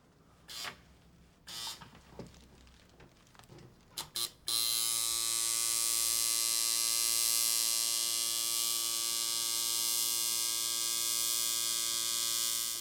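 A tattoo machine starts up after a few rattling knocks and then buzzes steadily and loudly at close range, a constant electric whine holding while a line is run straight up with the needle kept in the bottom of the tube.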